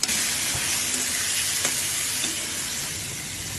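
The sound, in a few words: dried fish (shutki) sizzling in pan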